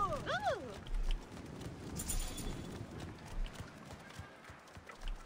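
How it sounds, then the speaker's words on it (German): A horse galloping in Assassin's Creed Origins, rapid clip-clop hoofbeats at moderate distance with a brief whinny at the start, fairly quiet under game ambience, with a voice talking over it. "Pferd!"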